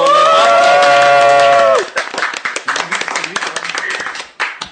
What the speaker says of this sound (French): gros clap pour toi, gros applaudissements dans le studio